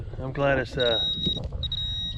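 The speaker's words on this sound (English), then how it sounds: "not just my pinpointer that just beeps on its own" A high, thin electronic beep sounds in short tones behind a person speaking close by, repeating briefly near the end.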